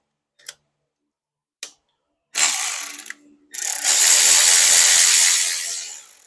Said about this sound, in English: Go ahead and hook up our ratchet.